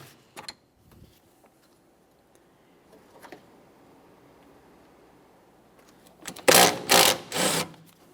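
A wrench or ratchet works a radiator bracket bolt loose on a 2015-2019 Subaru Outback 2.5L, with scattered faint clicks followed by a few loud, close bursts of rapid ratcheting near the end.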